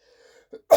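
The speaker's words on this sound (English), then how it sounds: "So I'm going to cough." A person recovering from flu gives a short throat clear, then a brief pause and a sharp, loud cough close to the microphone, with a faint hum before it.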